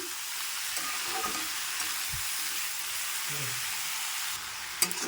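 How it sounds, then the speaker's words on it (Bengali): Cabbage curry with salt and pre-fried potato being stirred in a cooking pan, giving a steady sizzle with soft scraping strokes and a sharp clink near the end, and no one talking. "তো এবারটা ভালো করে নাড়িয়ে চাড়িয়ে নেব"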